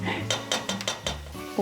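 Carrots and potatoes are stir-fried in a pot, with a quick series of five or six sharp metal scrapes and clinks of a utensil against the pot, close and fairly soft.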